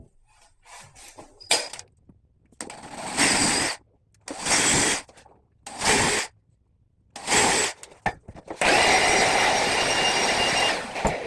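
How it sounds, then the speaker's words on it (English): A power drill bores a 3/16 hole in cabinet wood for hardware, in several short bursts of whirring and grinding separated by pauses, ending with a longer continuous run. "I'm going to drill this real quick so we can put this on there and get out of here."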